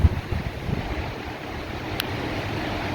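Hurricane Sally's gusting winds buffet close by in a broad, rumbling roar, with an initial thump and an uneven swell before settling into a constant rush.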